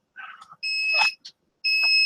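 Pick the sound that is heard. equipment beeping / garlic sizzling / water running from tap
equipment beeping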